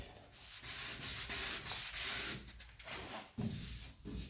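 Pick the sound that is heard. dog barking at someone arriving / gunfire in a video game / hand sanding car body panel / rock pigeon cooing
hand sanding car body panel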